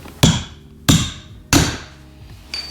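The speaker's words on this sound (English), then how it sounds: "once this is buried in the wood, if it doesn't separate, you can hit the handle to get it the rest of the way through" Hammer blows on the back of a metal axe driven into wood to split it ring out three times, sharp and close, at an irregular pace with a metallic ring after each, followed by a lighter fourth tap, no talking.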